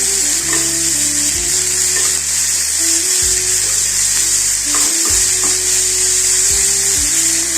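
Onions frying and being stirred in a pan for paneer bhurji, a steady loud sizzle running throughout with scraping stir strokes coming in repeated bursts, with no talking.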